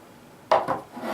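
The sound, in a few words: lifting bolt assembly out of KJ Works KC-02 airsoft rifle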